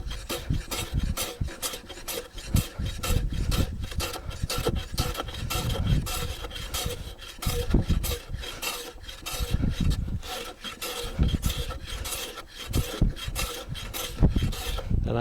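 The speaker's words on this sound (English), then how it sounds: "I'm planing down the face, but I'm careful not to go past this edge here with my cutting edge" A hand plane works down the face of a wooden workbench top in dense, continuous rasping strokes, steady and close, with no voices.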